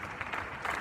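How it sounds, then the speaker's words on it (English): People clap from windows and balconies around an empty street during COVID, a dense, steady patter of applause at moderate distance with no voices. "now the claps are getting louder and louder and around us"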